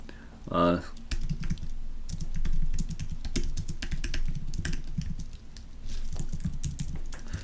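Fingers tap steadily on a computer keyboard at close range, a quick irregular run of key clicks that continues throughout, with a brief louder noise near the start.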